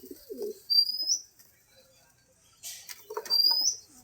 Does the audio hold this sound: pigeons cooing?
yes